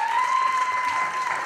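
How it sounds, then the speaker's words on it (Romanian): Applause rises at a talent show stage as a singer is introduced, a dense steady wash of clapping with a faint sustained tone running through it. "Aplauze!"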